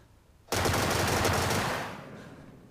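Loud, sustained automatic gunfire from a first-person shooter, Get Even, bursting in abruptly and rattling continuously for over a second before tapering into a quieter tail.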